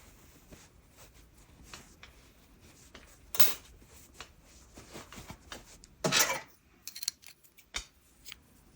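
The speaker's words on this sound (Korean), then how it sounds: "나머지 실 잘라서 잘라주세요" Scissors snip leftover yarn from a stuffed crochet bunny toy, with a few sharp isolated metallic cuts standing out against a quiet, faintly rustling background.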